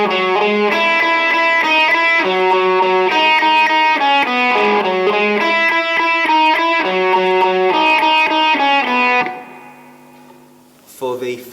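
Electric guitar plays a picked melodic lead line with a slightly gritty, lightly distorted tone and no delay, steady and loud, then fades to a quiet ringing tail before a brief pluck.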